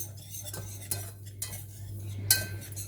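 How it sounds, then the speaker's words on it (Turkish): A utensil scrapes and clinks against the inside of a metal pot in slow, uneven strokes while mixing tea cake batter, with a steady low hum in the background. "Şöyle bir karıştırayım. Hepsi birbirine bir geçsin önce."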